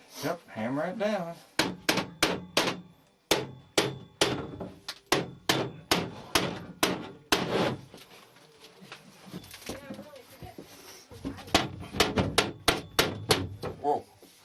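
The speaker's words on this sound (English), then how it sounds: "Yep, hammer it down." Repeated hammer blows drive a stainless steel panel down into place during construction of a replacement structure, sharp metallic strikes coming in quick bursts with pauses between, while people talk nearby.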